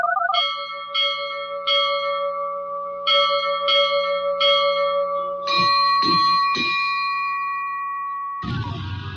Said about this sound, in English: Listen to AM 1230 for the ship's bell.